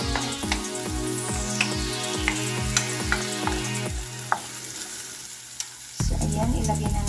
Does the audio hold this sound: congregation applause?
no